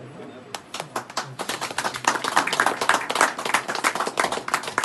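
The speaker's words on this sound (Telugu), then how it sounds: "క్లాప్స్ కొడాలి. క్లాప్స్" A group of people clapping hands at a family celebration, scattered claps building into dense, loud, rapid clapping over several seconds, with voices talking underneath.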